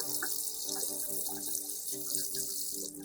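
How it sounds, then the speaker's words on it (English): Fresh ginger root rinsed under a running kitchen tap, a steady close splash of flowing water with faint shifts as the root moves through the stream, no voices. "Rinse the ginger under running water."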